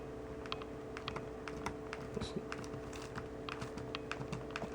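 Keys are pressed on a thin Samsung Series 9 NP900X3B notebook keyboard, irregular soft clicks of typing close up against a quiet room hum, with no talk.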